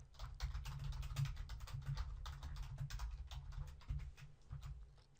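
Fingers typing on a computer keyboard with a quick, continuous patter of light key taps, faint and steady, alone without talking.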